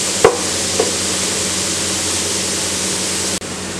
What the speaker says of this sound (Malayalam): മസാലയുടെ ചുവയൊന്ന് മാറുന്ന വരെ ഒന്ന് നന്നായി മിക്സ് ചെയ്ത് കൊടുക്കുക.